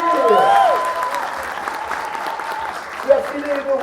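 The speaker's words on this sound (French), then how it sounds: "On peut l'applaudir!" A crowd at a gaming event applauds the winner of a Dragon Ball match, a steady, fairly close burst of clapping running throughout with voices talking and shouting over it.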